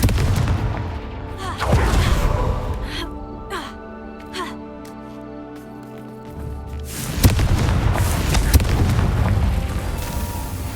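Confringo fire spells cast in the Hogwarts Legacy video game, a string of booming blasts and crackling impacts, loud bursts at the start and end with quieter tonal game effects between.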